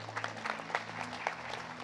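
A church congregation applauding, a brief, moderately close patter of many hands clapping over a low steady hum.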